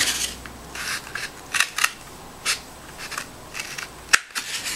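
Scissors snip through a cardboard toilet paper roll in a run of short, crisp cuts with brief pauses between them, close and fairly loud, with no talking.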